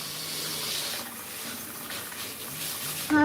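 A water sprayer runs steadily while bathing a Ragdoll cat during grooming, a continuous gushing spray at close range with a brief clunk at the end.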